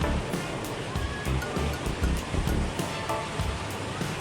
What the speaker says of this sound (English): it becomes more and more visible, the first waterfall that you encounter inside the mine